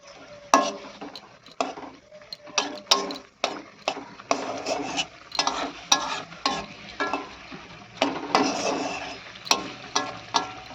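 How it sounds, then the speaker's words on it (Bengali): Fish curry simmering in a pan as it is stirred, a run of irregular scraping and clattering stir strokes over a low bubbling sizzle, close and fairly loud, with no talking. "আর এদিকে মাছের ঝালটা ফুটছে"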